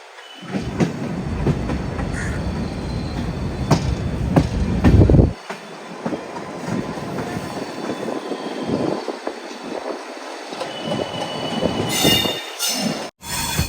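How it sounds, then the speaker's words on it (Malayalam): The Godavari Express passenger train rumbles along the rails toward Secunderabad Junction with steady clattering and occasional high wheel squeals, loud and close throughout. "സിക്കന്ദരാബാദ് ജംഗ്ഷൻ റെയിൽവേ സ്റ്റേഷനിലേക്ക് ഇതാ നമ്മുടെ ട്രെയിൻ എടുത്തുകൊണ്ടിരിക്കുകയാണ്."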